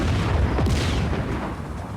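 Missile launches and explosions in the video game Just Cause 4, a dense, continuous barrage of booming blasts and rumbling fire lasting throughout, loud and close with no gaps.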